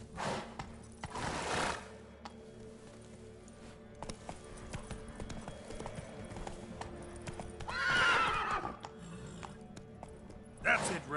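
Roach, a horse in The Witcher 3, gallops with a steady stream of hoofbeats, giving a few loud whinnies and snorts along the way, close and clear over ambient game sound.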